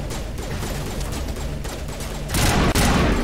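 Loud, dense gunfire in the sci-fi shooter Mass Effect Legendary Edition, a continuous barrage of overlapping shots that intensifies sharply toward the end.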